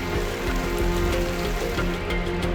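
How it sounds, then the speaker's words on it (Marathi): Heavy monsoon rain in Raigad district falling in a dense, continuous wash of noise, close and steady, with no voices. "जिल्ह्यात सलग 6व्या दिवशी मुसळधार पाऊस पडतोय"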